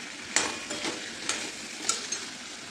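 A spoon scrapes and stirs spices through a dry potato curry in a pan, a few distinct scraping strokes at an irregular pace over a low, steady sizzle, close and fairly loud with no talking.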